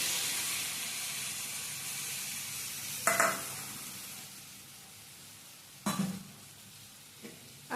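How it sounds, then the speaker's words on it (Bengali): Fried potatoes and red amaranth stalks with ginger-mustard paste are stirred in a pan, a faint steady sizzle broken by a few brief scraping stirs. "আবারও একবার এটাকে ভালো করে নাড়াচাড়া করে নেব।"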